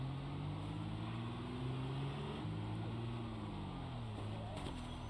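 A car in Project Zomboid labors through grass, its engine in poor condition, giving a steady, loud droning hum that shifts pitch as it revs and eases, continuous throughout.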